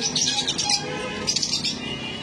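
Green fisher birds kept in pairs for sale give bright, quick chirps in two short bursts close by, with no talking.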